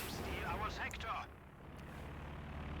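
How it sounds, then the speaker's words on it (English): An anti-tank gun fires in a Company of Heroes 2 battle, with a heavy booming shot early on that fades into a low rumble beneath steady commentary. "the AT gun is not doing a great job today with hitting"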